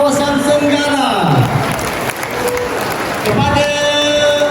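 Audience applause at a senior citizens' community gathering, a steady wash of clapping from a crowd with voices mixed in throughout.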